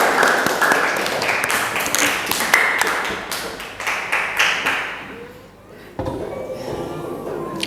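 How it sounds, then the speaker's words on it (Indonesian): Schoolchildren in a classroom clap their hands in a loud, fairly rhythmic burst lasting several seconds, then it fades out and quiet room noise with faint voices follows. "Oke, tepuk tangan buat kalian semua."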